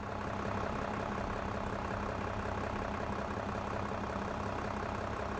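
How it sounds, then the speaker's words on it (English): A green tractor in a farm simulator game idles with a steady, low diesel rumble, continuous and fairly close throughout with no talk. "Green tractor."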